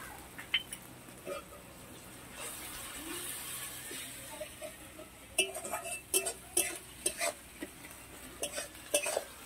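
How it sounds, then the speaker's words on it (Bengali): Garlic and ginger paste stirred in a pan for a ridge gourd kalia: a soft sizzling hiss with a spatula scraping and clinking against the metal, the scrapes growing sharper and more frequent toward the end. "এবার ভালো করে নাড়াচাড়া করে নেব"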